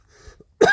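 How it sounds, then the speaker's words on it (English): A single sharp cough from a person outdoors on a winter forest hike, loud and close, preceded by faint low murmuring. "Coughing."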